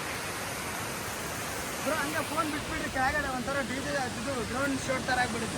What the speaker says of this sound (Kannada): ನೋಡಿ ವಾಟರ್ ಫಾಲ್ಸ್ ಎಲ್ಲ ಇದೆ